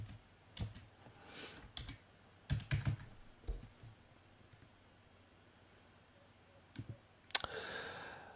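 Clicky typing on a computer keyboard while editing a Gmail username, in short bursts of keystrokes separated by pauses, ending with a louder flurry of taps.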